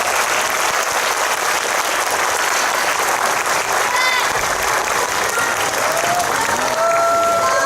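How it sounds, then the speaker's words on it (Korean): Loud, sustained applause from a cinema audience at a live talk event as the cast of a Korean film leaves the stage, a continuous dense clatter with a few brief tonal sounds rising through it. "끝까지 뜨거운 박수 부탁드립니다"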